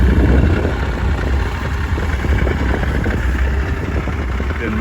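A 2012 Yamaha Venture GT touring motorcycle idles close by with a steady, throaty rumble and faint mechanical clatter, loud and even throughout.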